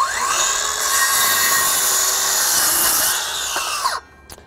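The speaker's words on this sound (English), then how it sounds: "Let's just cross cut here using the 4 amp-hour extended run battery." A Kobalt 24-volt 6-1/2 inch cordless circular saw on a 4 amp-hour battery whines loudly through a single wood cross cut, then the motor spins down and stops near the end.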